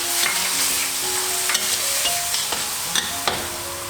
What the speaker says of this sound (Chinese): curry 粉、 然后再倒入适量的水炒一炒